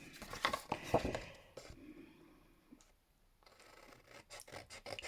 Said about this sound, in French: Je tire, je coupe ma bandelette.